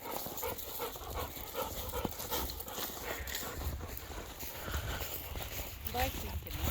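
Rapid rhythmic dog panting runs steadily through the clip, close to the microphone, with a person talking intermittently over outdoor background noise.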